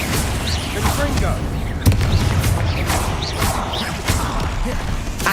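Confringo fire spell explosions in the Hogwarts Legacy video game, a string of sharp booming blasts and whooshes over busy combat noise, with a voice calling out spells.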